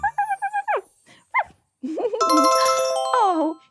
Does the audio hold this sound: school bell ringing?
yes